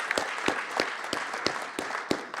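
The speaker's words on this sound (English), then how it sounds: "Please join me in giving our speakers and panelists a round of applause" An audience at an industry forum panel discussion claps for the speakers and panelists, a short and moderately faint round of applause with scattered individual claps standing out.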